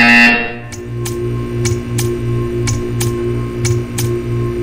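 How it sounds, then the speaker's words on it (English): A buzzer in the video game Portal 2 sounds about eight times at a steady, roughly once-per-second rhythm, each pulse short, clear and close, with no speech. "You will hear a buzzer."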